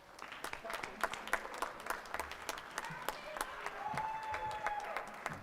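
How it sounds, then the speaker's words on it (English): Scattered, distinct claps from a modest audience at a Princeton Board of Education meeting, fairly faint and uneven, with individual hand claps standing out over a quiet room. "Let's give them a big round of applause."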